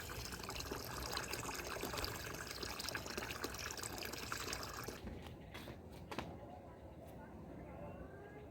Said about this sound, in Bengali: এখানে বালতি করে জল নিয়ে আর ওইখানে দেবো একটু গাছগুলো